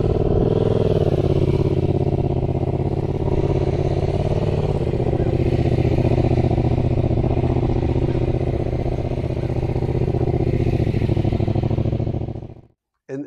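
A motorcycle circling tightly during a slow-speed riding skills course, its engine droning steadily and close for most of the stretch before cutting off abruptly near the end.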